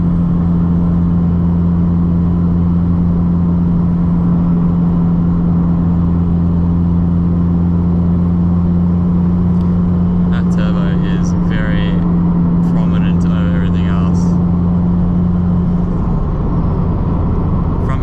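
Constant low engine drone heard from inside a built Nissan S15, steady and loud, with brief voices and some higher chatter partway through.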